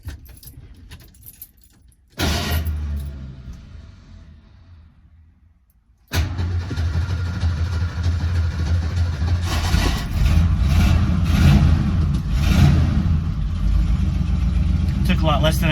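A 1973 Ford Maverick, not driven in two years and still faulty, starts after keys jangle. The engine catches, fades and dies, then fires again after a pause and settles into a steady, loud idle.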